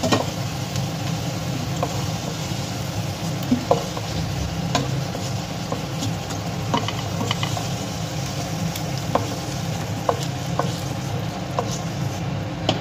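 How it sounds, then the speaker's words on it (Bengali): Boiled potatoes frying in mustard oil in a pan until reddish, a steady, busy sizzle with scattered sharp clicks of stirring throughout, and a low background hum underneath. "এবার আমি প্রথমে সিদ্ধ করা আলুটা ভালোভাবে ভেজে নেব লাল লাল করে"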